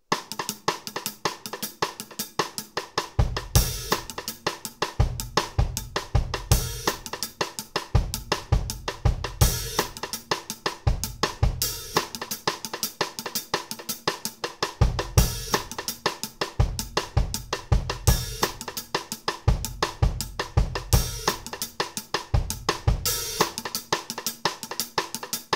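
Cross-stick drum groove on a drum kit, a steady repeating beat of rim clicks with kick and cymbal hits, played continuously, close and loud with no talk.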